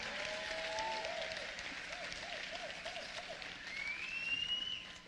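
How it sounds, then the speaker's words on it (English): Audience applause for 2022 nursing college graduates at a Florida commencement ceremony, a fairly distant, steady patter of clapping lasting several seconds, with faint background tones mixed in. "Let's give our graduates a big round of applause."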